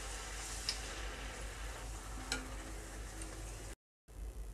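Besan fuchka puris fry in hot oil in a wok, a continuous soft sizzle with a few faint clicks, no talk, ending in a brief silence.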